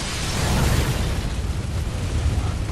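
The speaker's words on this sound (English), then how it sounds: "The explosion that took out no enemies and all of me." A blast in Bloodborne, a dense roaring burst that holds loud and steady, with a rumbling low end and no voices over it.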